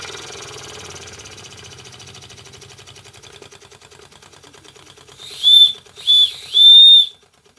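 An Empire B-30 live steam engine chuffs in a rapid, soft, even rhythm, then three loud shrill whistle blasts sound close up, the last one the longest.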